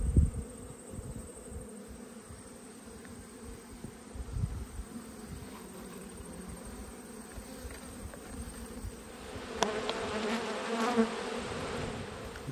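Honeybees buzzing around an open hive during an Australian autumn frame inspection, a dense, steady, quiet hum from many bees close by, with a few louder individual passes near the end.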